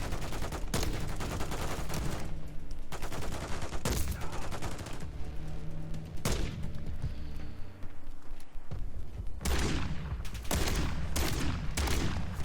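Repeated shotgun blasts from the Modern Warfare III video game: loud, close bursts at irregular intervals, with overlapping gunfire and rattling effects between them and no talk.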